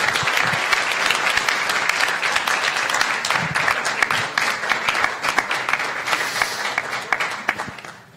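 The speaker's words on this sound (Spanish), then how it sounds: "Aplausos de la sala." Sustained audience applause fills a university lecture hall after a speech, dense steady clapping from a large crowd that thins out and fades toward the end.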